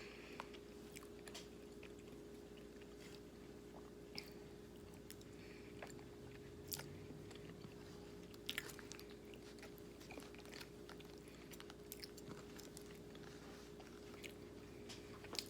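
Someone eats a Gordon Ramsay mac and cheese TV dinner from a bowl, making soft, steady chewing and biting sounds with occasional small clicks, close but quiet over a constant low background hum, with no talking.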